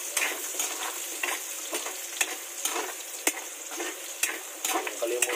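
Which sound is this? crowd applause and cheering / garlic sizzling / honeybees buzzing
garlic sizzling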